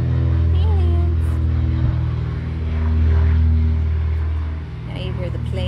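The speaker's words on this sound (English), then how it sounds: "Now you hear the planes." Low, steady propeller-plane drone swells and fades overhead, with faint bird chirps and rustling nearby.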